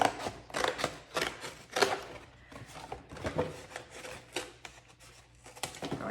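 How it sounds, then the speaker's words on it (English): Scissors cut the cardboard flaps off a cereal box at close range, giving a series of crisp, irregular snips and crunches over about six seconds with paper rustling between them. "I'm simply going to cut these flaps off to make it a little easier."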